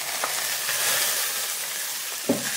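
Sliced onion, green chilies and three tomatoes fry in a pan for tomato rasam, producing a steady close sizzle with a few light stirring taps.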